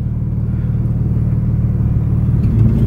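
Car engine rumbling rough and low from inside the cabin while field drifting on grass, a steady droning growl that swells slightly louder toward the end.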